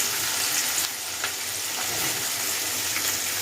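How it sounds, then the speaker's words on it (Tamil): Chopped big onion frying in a pan gives a loud, continuous sizzle, with a few soft knocks from stirring. "நம்ம கட் பண்ணி வச்சுக்கிற பெரிய வெங்காயம் இங்கே போட்டுக்கலாம்"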